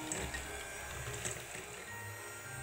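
An electric hand mixer runs at low speed through cake batter of palm sugar, vanilla and emulsifier for a palm-sugar sponge cake, giving a faint, steady whirring hum with small mechanical clicks throughout.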